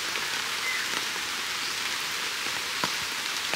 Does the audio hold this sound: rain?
yes